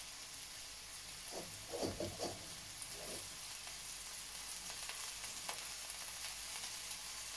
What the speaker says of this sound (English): Just want to brown off that beef. And then in goes the half a pack of stir fry.